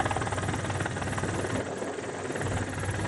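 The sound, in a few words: police helicopter dispersing beachgoers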